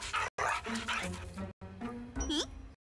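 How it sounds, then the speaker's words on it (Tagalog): A cartoon police service dog gives a few sharp barks and a rising yelp, close and fairly loud, set against animated background sounds. "Isang aso na serbisyo!"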